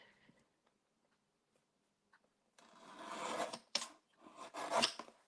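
Scissors trimming the edge of a paper print, with a few quiet crisp snipping and rasping cuts after a near-silent stretch, close by with no talk.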